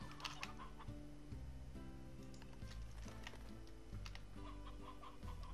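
Chickens cluck in a farm in the Slime Rancher video game, a repeated series of short, stepped clucks at low volume with no talking.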